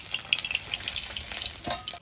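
Hilsa fish frying in hot oil, close crackling sizzle with sharp pops and a brief scrape of stirring, steady throughout.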